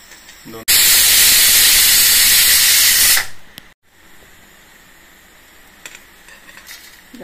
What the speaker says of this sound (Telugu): కొద్దిగా నూనె వేసుకోవాలి. కొన్ని మెంతులు వేసుకోవాలి.